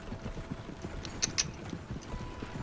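Diamond, a horse in Red Dead Redemption 2, lands a couple of sharp, close hoof clops over a quiet outdoor game backdrop.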